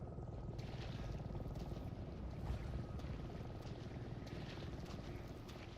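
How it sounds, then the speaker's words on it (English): Helicopter in the Resident Evil 7 video game heard over a swamp, a steady rotor thrum with a faint rhythmic chop throughout, moderately distant and constant. "There's a helicopter."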